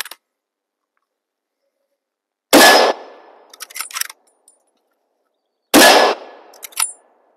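Two sharp, loud gunshots from a gun fitted with a muzzle brake crack out at an outdoor range, a few seconds apart. Each is followed by brief metallic clinks and rattles, with silence in between.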